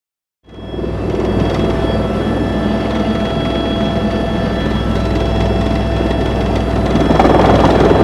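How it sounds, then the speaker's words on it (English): A helicopter flies up through the Hindu Kush mountains. Its engine and rotor make a loud, steady roar from start to finish, with no voices. "Second day, helicopter picks us up, say our goodbyes, and off we go up through the Hindu Kush"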